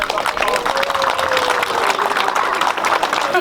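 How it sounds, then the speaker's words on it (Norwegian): Spectators applaud at a Formula Offroad race as a driver is introduced, a steady wash of clapping with crowd noise and a faint whistle, heard continuously for a few seconds. "Ja, litt applaus, folkens."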